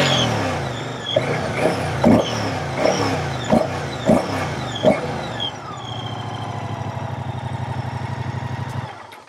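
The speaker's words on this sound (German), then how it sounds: "Eine kurze gedrungene Auspuffanlage, die wirklich einen super coolen Sound ermöglicht." A Moto Guzzi V100 Mandello S V2 motorcycle with a short, stubby exhaust barks through a series of sharp, loud throttle blips, then drops into a steady, throbbing idle that runs close and clear.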